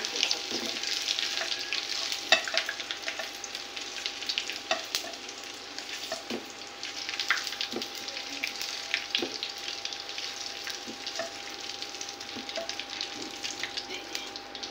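An egg fries in a pan until reddish-brown, with a steady sizzle and frequent scraping, stirring clicks throughout.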